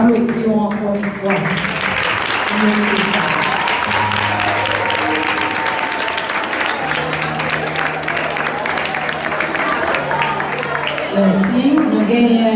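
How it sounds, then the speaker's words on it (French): An assembly applauds nurses at a Nurses' Day celebration, with steady loud clapping throughout, voices and a sustained tone running underneath, and a brief swell near the end. "Nous applaudissons encore une fois"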